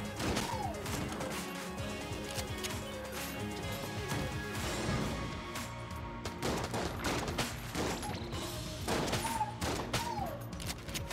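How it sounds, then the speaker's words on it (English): Shotgun blasts in the video game Enter the Gungeon, a rapid series of loud booming shots and crashes over busy game music and sound effects. "Switch to the shotgun, cuz shotgun."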